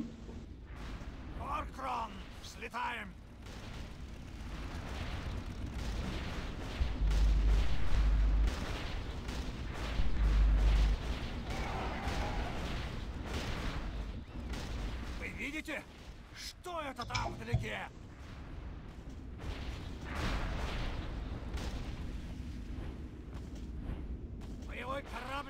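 Heavy booming cannon blasts go off repeatedly amid a noisy battle din, with voices mixed in underneath.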